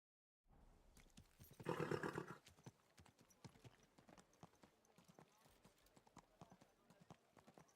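Rhythmic clip-clop of horse hooves in a video game (Kingdom Come: Deliverance) at a steady trot, fairly faint, with a brief louder burst of noise early on and a snort or whinny.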